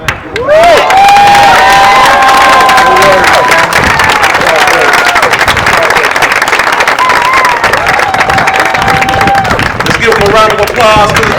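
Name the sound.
rally crowd cheering and applauding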